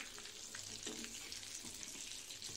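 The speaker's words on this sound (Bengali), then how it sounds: "এই যে মাছটা ভাজা হচ্ছে, ফিশ ফ্রাইটা বন্ধুরা দেখুন" Coated bhetki fish fillets fry in hot oil, giving a faint, steady sizzling hiss with soft bubbling crackle throughout, close by and with no talking.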